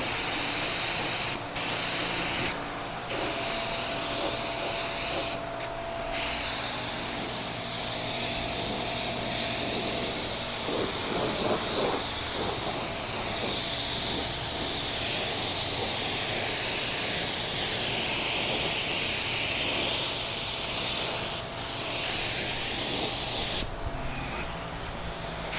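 A steady, loud hiss of spray primer goes on as a coat is laid down, running almost without a break and pausing only briefly a few times, with no talking over it.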